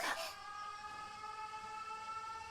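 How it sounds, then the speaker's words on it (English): Air raid sirens wail in the video game 13 Sentinels: Aegis Rim, a steady layered tone that holds after a brief noisy burst at the start, faint and distant-sounding, with no talk. "The sirens. This is bad."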